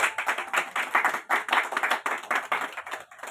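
Loud, steady clapping from a crowd at an outdoor Dhamma Vijay Diwas ceremony at a historic site, with dense rhythmic hand claps continuing evenly for several seconds and no one talking.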